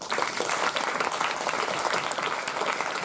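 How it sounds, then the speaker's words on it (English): An audience at a short-film festival Q&A in Singapore breaks into steady, dense applause, many hands clapping together for the whole stretch without pause. "A big round of applause to them."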